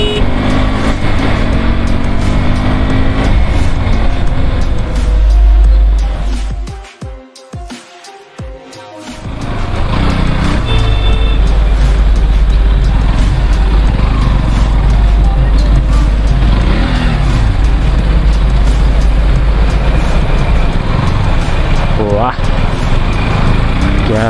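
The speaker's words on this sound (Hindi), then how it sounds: "देखिए गाइस सुबह सुबह इतना ज्यादा ट्रैफिक होता है।" Busy morning road traffic, a dense continuous rumble of passing cars, trucks and motorbikes close by, dipping briefly around the middle before the roar returns steady and loud.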